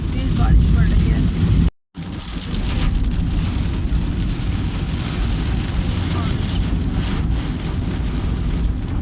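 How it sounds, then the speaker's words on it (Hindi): Heavy torrential rain pounding loudly and steadily during a road journey, a dense continuous roar with vehicle rumble underneath and a brief dropout near the start. "ऐसा लग रहा है जैसे बस पानी की मूसलाधार बारिश पड़ रही है।"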